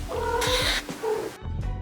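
A domestic cat meows loudly and close by, giving a drawn-out caterwauling cry followed by a shorter second meow.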